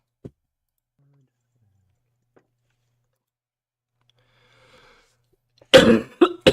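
A couple of sharp, close coughs burst out near the end after a long near-silent stretch with a faint click at the start.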